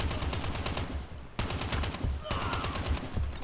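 Rapid bursts of automatic gunfire in Call of Duty Mobile, sustained volleys of shots in quick succession with brief pauses between bursts, fairly close and dense.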